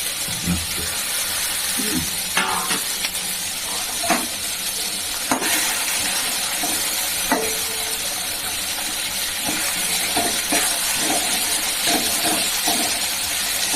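Onion and tomato sauté in hot oil with green chilli alongside, a steady close sizzle broken by scattered clicks and scrapes of stirring.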